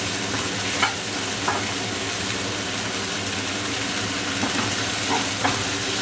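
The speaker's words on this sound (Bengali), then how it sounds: "মশলাটা আমার সুন্দরভাবে কষে নিতে হবে" Spice paste for Bengali-style tandoori chicken curry being stir-fried and cooked down in a pan, a steady sizzle with occasional soft scrapes of a spoon, with no talking.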